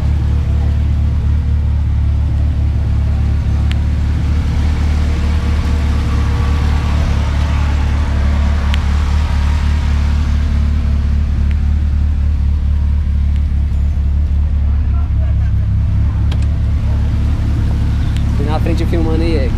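A turbocharged Volkswagen Voyage drives along with a steady, loud low engine rumble that holds throughout, while voices talk over it.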